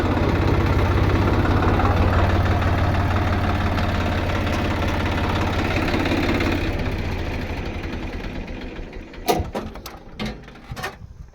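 A tractor engine idles with a steady low rumble while the tractor is stuck in a roadside drainage ditch with both tyres lifted off the ground. It is loud and close, fades slightly, then a few knocks and clatters follow.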